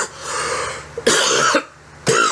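A man coughs several times in harsh bursts between pauses, close and fairly loud, with no other sounds around.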